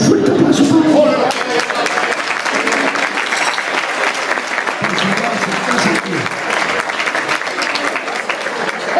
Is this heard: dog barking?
no